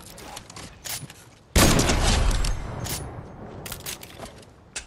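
A sudden loud sniper rifle shot in Fortnite, fired from a quick scope, bursting in abruptly and trailing off into a rumbling echo, with sharper clicks and gunfire pops before and after, no speech.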